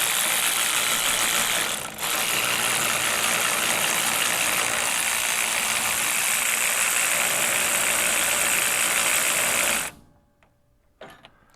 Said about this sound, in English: ratchet noise